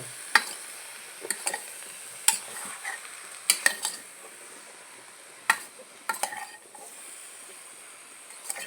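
A spoon scrapes and clacks against a pot of chicken in scattered strokes, with a faint sizzle underneath; quiet and close, no voices.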